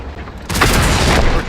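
A heavy tank cannon shot striking in the World of Tanks video game: a loud booming impact that cuts in sharply after a quieter lead-in and rumbles on, sustained and close.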